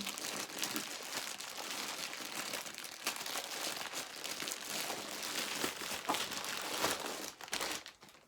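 A taped AliExpress parcel being torn open, with continuous loud crinkling and crumpling of plastic packaging for several seconds, close up and without talk.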